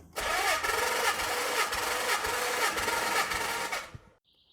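A Nissan 300ZX Z32's twin-turbo VG30DETT engine cranks over on the starter during a compression test with oil added to the cylinder, a loud steady rhythmic churning lasting about four seconds before cutting off.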